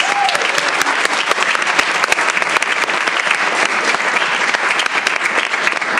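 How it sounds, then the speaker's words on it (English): Audience applause at a school board meeting, steady dense clapping from a crowd lasting throughout without pause. "let's give them a round of applause."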